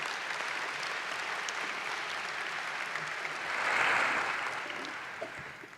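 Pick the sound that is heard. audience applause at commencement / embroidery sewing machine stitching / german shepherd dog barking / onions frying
audience applause at commencement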